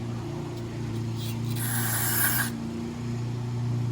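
Carburetor cleaner hisses from an aerosol can in a steady spray burst lasting about a second, aimed into the carburetor of a Craftsman lawn mower with a Briggs & Stratton engine, over a constant low engine-like hum.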